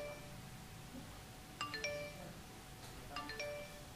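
A telephone rings faintly in a Batak-language film, two short bursts of electronic chime tones a couple of seconds apart over a soft background hiss.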